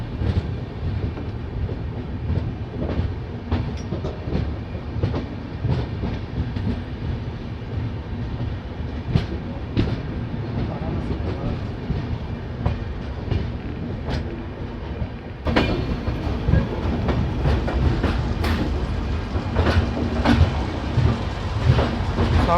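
A passenger express train rolls slowly on a curve through woodland into Varanasi Junction in the morning, a steady low rumble of wheels and carriages with scattered clicks and clanks, growing louder and busier in the later part.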